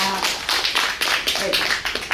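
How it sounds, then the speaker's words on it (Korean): Audience applause at a Korean national poetry recitation contest, heard as a steady patter of many hands clapping, fairly loud and close, continuing without a break for about two seconds. "수고해주신 김남배 선생님에게 큰 박수 부탁드립니다."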